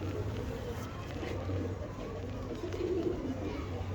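Breeder pigeons cooing, low soft throaty coos repeating close by over a steady background murmur.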